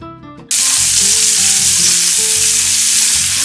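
Onion hits hot olive oil in a pan with a sudden loud burst of sizzling that stays strong and steady, close up and without any talking.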